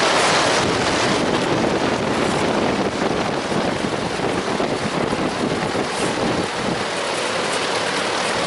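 A revived 40-inch scrapyard fan with an overly tight belt, running and blowing gusty air: a loud, close, broadband rushing roar that holds steady throughout with slight surges.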